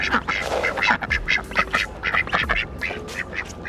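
A flock of ducks quacks repeatedly and rapidly, overlapping calls close by with no pauses.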